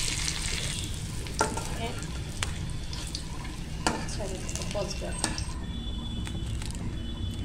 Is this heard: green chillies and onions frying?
yes